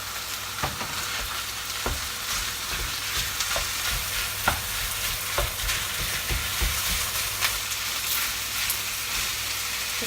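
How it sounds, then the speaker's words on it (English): Beef mince frying in a pan makes a loud, steady sizzle up close, broken by regular scraping and tapping as it is stirred and broken up. "In goes the mince."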